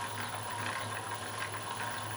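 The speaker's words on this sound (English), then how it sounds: "So I'll just get the spindle a spinning." Spindle of a semi manual CNC lathe turning at roughly 100 RPM, a low steady mechanical hum with faint rattling and a constant whine, no speech.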